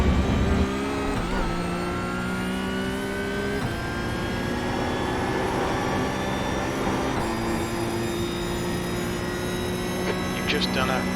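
A Porsche 992 GT3 Cup race car laps Road Atlanta in the iRacing game, its engine wailing and shifting through gears with sharp pitch drops at each upshift, steady and prominent throughout.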